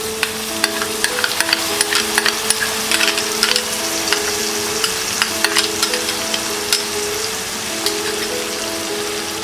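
Onion-garlic, tomato, green chili, ginger and cashew nut paste masala sizzles on a low flame with a constant crackle, broken by small scattered ticks and scrapes throughout; no one talks.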